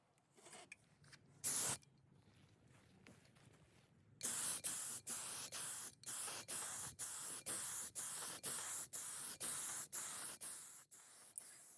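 Oil-based Varathane polyurethane, thinned about ten percent, sprayed as a first coat onto a wooden Airstream sink cover: a steady hiss in repeated short, evenly spaced bursts of about equal length, close and fairly loud, with no talking.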